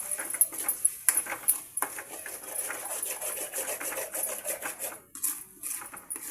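Spoons clinking and scraping in a bowl as soy sauce and chilli sauce are stirred together for manchurian, with quick, irregular metallic taps and scrapes close by and no talk.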